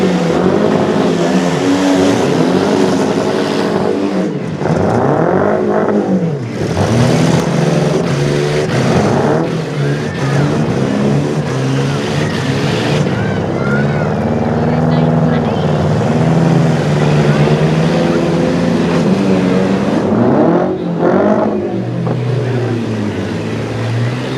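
Demolition derby cars rev hard on a dirt track, loud engines surging and falling in repeated swells with rising and dipping whine, close and continuous, while an announcer talks over the din.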